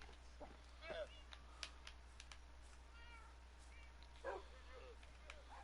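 Dogs bark in a Minnesota-style blocky survival video game world, a few short yips and barks scattered at a distance over a steady low hum, with faint talk nearby.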